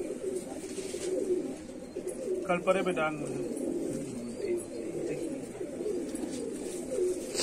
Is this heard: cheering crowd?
no